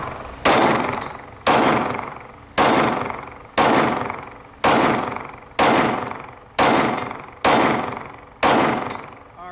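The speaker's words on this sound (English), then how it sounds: "we're shooting around 10 yards, and we'll pattern a few more on that steel" Nine Glock 43X and G48 pistol shots fired at steel targets from about 10 yards, evenly spaced about one second apart, each a loud sharp crack with a ringing metallic clang from the steel, no talking.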